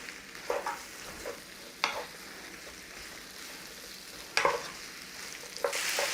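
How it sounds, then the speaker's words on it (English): Onions, garlic and bacon frying steadily in a pan with dried thyme and pepper, a soft continuous sizzle broken by a few louder stirring scrapes and clatters. "It's a nice steady fry on the onions, the garlic and that bacon"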